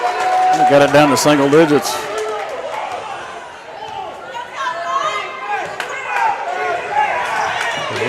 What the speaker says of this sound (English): You kind of hear the Atchison crowd get fired up behind us